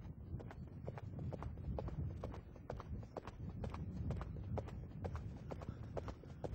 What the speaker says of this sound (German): Zumindest für einen Fünfgänger einen recht ordentlichen Galopp hat.